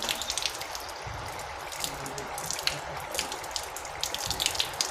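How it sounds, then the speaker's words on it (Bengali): Tap water splashes and runs steadily over a wrist being washed during wudu, a close, continuous spatter with small drips and no talking. "তিনবার ধোয়ার পরে আপনারা বাম হাতের কবজি তিনবার ধুবেন"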